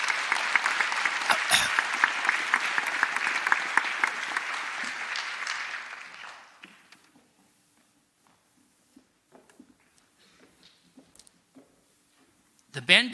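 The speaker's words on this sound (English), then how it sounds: "Give them a round of applause, please." Applause from an awards assembly audience, a dense sustained clapping that holds steady for about six seconds before thinning out to scattered claps and a quiet room.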